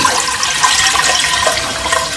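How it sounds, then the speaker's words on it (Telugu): A continuous splashing rush of water poured into a pan close by, bright and steady for the whole stretch with no voices. "కొన్ని వాటర్ ఇందులో పోసేసి"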